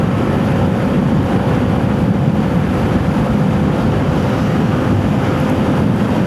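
A 2026 Vespa VXL 125 scooter engine is held at full throttle near 80 to 90 km/h. A steady, unbroken roar runs throughout, heavily mixed with loud wind rush and no speech.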